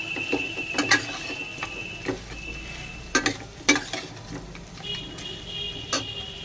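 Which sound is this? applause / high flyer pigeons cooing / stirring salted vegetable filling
stirring salted vegetable filling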